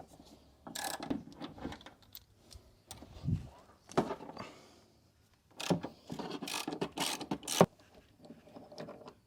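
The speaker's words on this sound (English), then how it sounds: "So let's remove some bolts." Ratchet working on suspension bolts of a VW Polo during a coilover install, heard as irregular bursts of close clicking and metallic clunks separated by brief quiet gaps.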